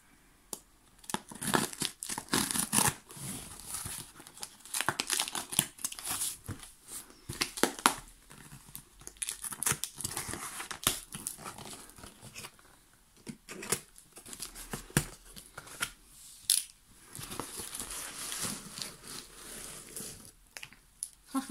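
A parcel of K-pop albums is torn open, its plastic packaging crinkling, rustling and ripping continuously up close for a long stretch in busy, uneven bursts.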